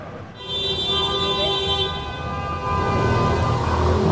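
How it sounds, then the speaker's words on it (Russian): Car horns blare in busy city traffic in Naples, Italy: sustained, loud, overlapping honks ring out over a steady street roar, with the din swelling toward the end. "Все что сигналят."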